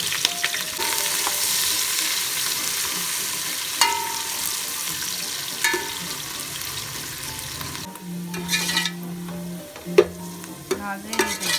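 Chopped onions frying in hot oil in a home kitchen while a vegetable pulao is being made, a steady close sizzle with a few stirring clatters toward the end and no talk.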